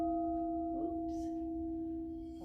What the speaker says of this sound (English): I'm going to play a few of these bowls for you.